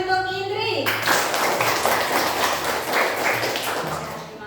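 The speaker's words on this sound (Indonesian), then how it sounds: "Ya, tepuk tangan untuk Indri" A classroom of students claps for a classmate: a dense, fairly loud burst of many hands lasting several seconds, with a teacher's voice briefly heard at the start and faint talk underneath.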